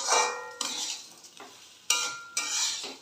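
Rice for basanti pulao stirs in a frying pan as salt and sugar are mixed in, giving several distinct scraping, rustling strokes with short pauses between them, close and fairly loud.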